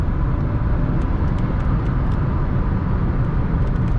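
Steady engine and road noise from a Renault Symbol with a 90 HP 0.9 TCe engine while driving, a continuous broadband hum with no talk.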